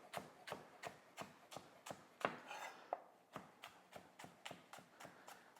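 A knife chops green onions thinly on a bias against a cutting board, a quick even run of sharp close taps, about a dozen strokes in steady rhythm.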